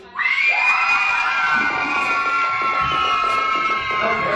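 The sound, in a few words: crowd of children screaming loudly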